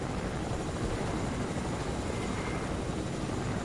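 Helicopter in a PS4 video game gives a loud, steady, dense rotor and engine roar that stays constant throughout, close and unbroken, with no talk over it.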